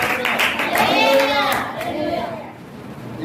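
A church congregation claps their hands together during a Christian sermon, a burst of claps in the first second and a half mixed with a preacher's voice and murmuring from the crowd.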